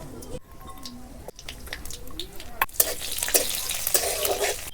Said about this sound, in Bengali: কড়াইয়ের মধ্যে সর্ষের তেল আমি দিয়ে দেবো এই তেলের মধ্যে আমি কিছুটা পরিমাণ কালো জিরে দিয়ে দেবো আর চেরা কাঁচা লঙ্কাও কিছু দিয়ে দেবো